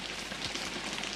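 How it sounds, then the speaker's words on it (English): Steady rain falls during the tropical wet season in the Australian bush, a dense close hiss of drops pattering on surfaces with no pauses. "this rain's been hanging around coming and going all day, but it looks pretty set in now"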